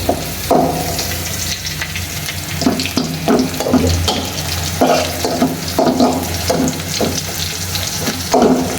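Steady sizzling of food frying in hot oil, with repeated stirring and scraping knocks layered over a continuous crackle.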